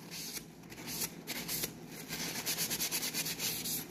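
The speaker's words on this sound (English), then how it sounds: "Give it a good wipe down." A paper towel rubs along a rusty knife blade, producing dry, papery swishing and scraping strokes that grow into a quicker rhythmic back-and-forth wiping, close and fairly quiet.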